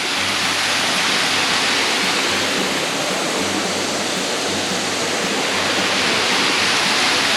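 A waterfall roars in a steady, loud, unbroken wash of rushing water that fills the whole scene, with no other sounds standing out.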